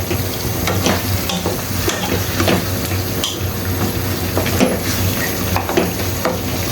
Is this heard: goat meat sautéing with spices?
yes